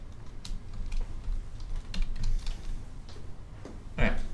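Fingers typing code on a computer keyboard, an irregular stream of soft clicks over a low background hum, moderately close, with a louder cluster of keystrokes near the end and no clear speech.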